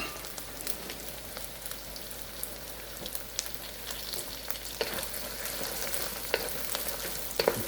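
Bacon fried rice with egg sizzles and crackles steadily in a hot pan, with soft scraping of stirring running throughout at close range, no voices.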